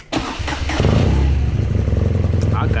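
A 90 Racer motorcycle engine cranks and fires up loudly and close by, settling quickly into a throbbing, rapidly pulsing idle.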